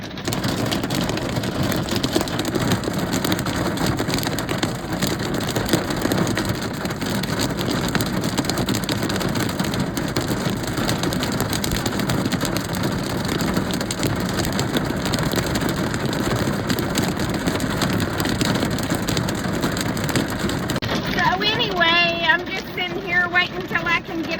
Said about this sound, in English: I'm trapped in my car. It's hailing.